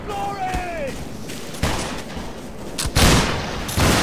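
Scattered musket shots ring out during a line battle in the video game Battlegrounds 3, with several sharp reports in the second half, some overlapping, over a busy background that carries a brief voice-like tone early on.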